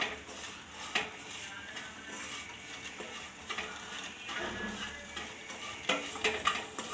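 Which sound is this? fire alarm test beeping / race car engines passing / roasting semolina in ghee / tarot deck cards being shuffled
roasting semolina in ghee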